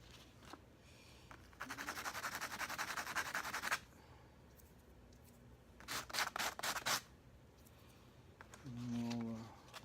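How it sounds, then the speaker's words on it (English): Guitar knobs being scuffed by hand so epoxy will grip, giving two bursts of close, dry rubbing and sanding strokes, a longer run first and a shorter choppy one later, with a brief voiced sound near the end. "So we'll just scuff these up just a little bit to give it a little bit of bite."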